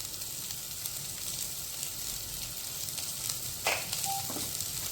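Capsicum and mixed vegetables sauté with salt in a pan over a medium flame for a pizza topping, giving a steady close sizzle with a brief stir near the end.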